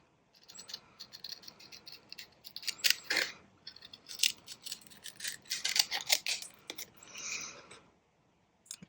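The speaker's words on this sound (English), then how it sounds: "Cutting it into pieces because I don't want it to completely crack." Brittle craft material being cut into pieces by hand, giving a close, irregular run of crisp snips, scrapes and crackles over about eight seconds, alone with no talking.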